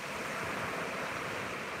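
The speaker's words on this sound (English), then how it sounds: "Soak in the sounds of these waves" Ocean waves wash steadily onto a beach at sunrise, a continuous broad hiss of surf with no distinct breaks, fairly soft and with no voices.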